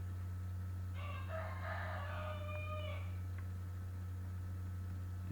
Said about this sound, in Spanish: Ya se despertó el gallo